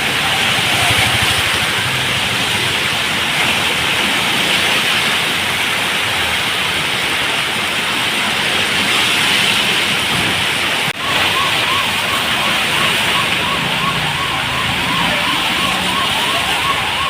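Heavy rain pours down over a flooded town centre where shops are under water. A constant loud rushing wash runs throughout, with a faint repeating alarm-like tone joining partway through.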